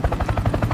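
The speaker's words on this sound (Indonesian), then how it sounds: "Ternyata ada sebuah helikopter." Helicopter with rapid, steady rotor chopping, a loud close pulsing beat at a fast even rhythm, alone without talk.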